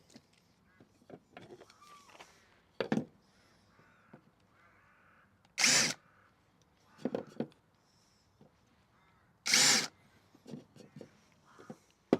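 A power drill with a countersink bit whirs in two short, loud bursts amid quieter shuffling and handling noises, with faint talk in between.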